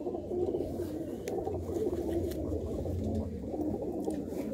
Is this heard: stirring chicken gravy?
no